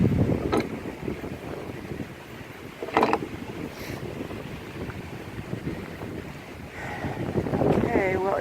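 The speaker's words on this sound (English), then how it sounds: "it's starting to get even more windy" Strong wind sweeping a beach, a steady roaring rush of gusts buffeting the microphone with surf in the background, rising and falling over the whole stretch, with brief bursts of other sound near the start and a short voice near the end.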